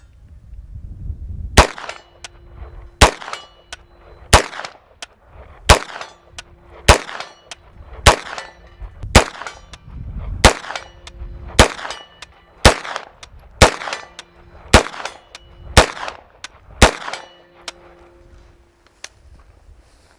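A B&T GHM9 Compact pistol-caliber carbine fires a steady string of about fifteen sharp, loud shots at roughly one-second intervals at a long-range outdoor range. Most shots are followed by a faint ringing clang from distant steel targets.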